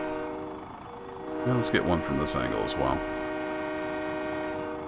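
A train horn blares steadily through the whole stretch in Farming Simulator 17, loud and sustained, while someone talks briefly over it in the middle.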